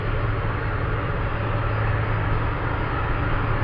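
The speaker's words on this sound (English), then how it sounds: "UPS 33 already cleared for takeoff." A UPS cargo jet taking off at Anchorage airport, a loud, steady, broadband engine roar holding constant throughout without any voices.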